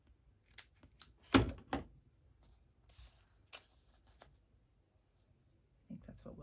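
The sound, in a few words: scissors cutting off gathered paper part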